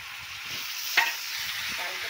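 A spoon stirs tomatoes and cumin powder into poha masala in a hot pan, with soft scraping strokes over a steady low sizzle and one brief clink, no voices.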